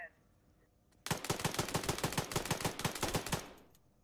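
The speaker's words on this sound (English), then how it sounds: "You're shooting inside into the wall, Tori." Rapid automatic gunfire in a multiplayer shooter video game, fired indoors into a wall: a sustained burst of roughly twenty evenly spaced loud shots lasting about two and a half seconds, starting abruptly after quiet and stopping cleanly, with no talk over it.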